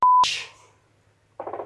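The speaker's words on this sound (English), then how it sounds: "That was my phone. I know it sounded like it." A phone alert sounds: a short steady electronic tone, a sharp burst, then a pulsing warbling chime, loud and close with no talk over it.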